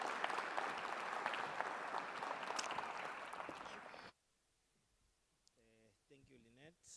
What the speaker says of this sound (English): if you can please give a very warm round of applause to the Honourable Mayor, Councillor Kawunda